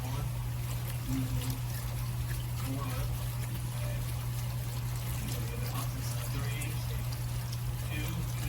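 Vegetable stock poured from a carton into a soup pot of carrots and vegetables for a homemade fall soup, a steady liquid trickle running the whole time over a constant low kitchen hum.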